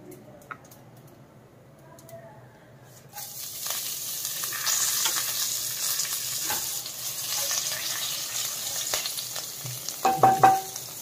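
Curry leaves and green chili drop into hot oil at about three seconds, setting off a loud, steady sizzle that crackles and spits through to the end, with a few sharp pops near the close.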